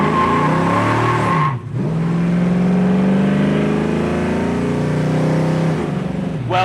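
A 1968 Ford Mustang's loud engine revs hard up close while tires squeal in a long, rising screech, briefly dropping off before the engine roars again.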